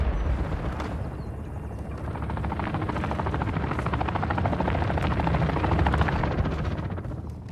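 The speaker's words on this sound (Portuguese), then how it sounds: "Atirador de helicóptero inimigo a caminho." An enemy helicopter in a Call of Duty match approaches with a steady, thick rotor thrum that builds slightly louder over several seconds, mixed with distant battle rumble and no talk.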